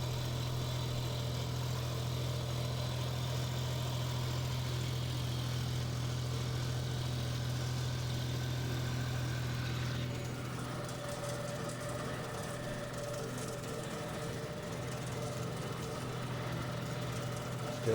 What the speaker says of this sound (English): The old tractor did a good job.